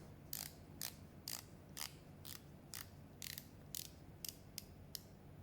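Rotating bezel of a Sinn U1 dive watch clicking as it is turned, about a dozen sharp, quiet ratchet clicks in uneven bursts over a faint background hum.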